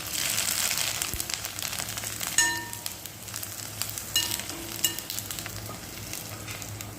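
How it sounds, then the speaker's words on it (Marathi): Nylon poha, thin flattened rice, frying in hot oil for a fasting-day platter, a steady close sizzle and crackle with a few sharp clinks of a utensil against the pan. "नायलॉन पोहे तळून घेऊया."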